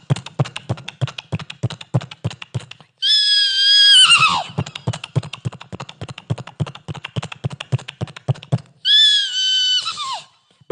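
A human voice mimics the hoofbeats of a horse galloping along the Amazon riverbank, with steady rapid clip-clop pulses broken twice by loud imitated whinnies.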